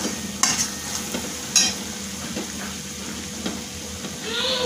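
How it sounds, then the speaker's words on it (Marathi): Chili powder, turmeric and pav bhaji masala are stirred into a frying egg bhurji base in a pan, giving a low sizzle with a few sharp scrapes and clinks of the utensil against the pan. "एकत्र आपण हे छान मिक्स करून घेऊ।"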